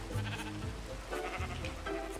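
Sheep bleat in a video game, several short nasal bleats in quick succession, close and clear against a low steady hum.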